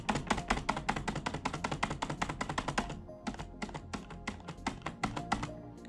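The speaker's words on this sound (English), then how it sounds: "Let me show you how well the mic picks up the spacebar." Keys on a computer keyboard, spacebar included, being struck in a rapid, steady run of loud, close clacks that pause briefly and then resume, picked up by a nearby microphone with no talking.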